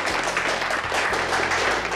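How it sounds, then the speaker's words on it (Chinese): A group claps together in a welcoming round for a newcomer, a dense, even patter of hands held steady for a couple of seconds with a faint voice underneath. "掌声。"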